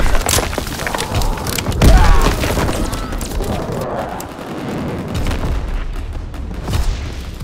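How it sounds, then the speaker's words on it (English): A V2 rocket strike explodes in a video game, a heavy booming blast with thuds and crackling debris, then sustained rumbling and scattered impacts with a voice underneath. "Launching V2 rocket."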